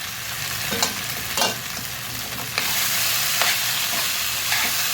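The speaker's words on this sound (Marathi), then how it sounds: "ह्याला आता चांगलं मिक्स करायचं" Schezwan fried rice being stirred in a hot pan, a loud close sizzle with several distinct scraping strokes of a spoon at irregular intervals, the frying growing slightly louder midway, no voices.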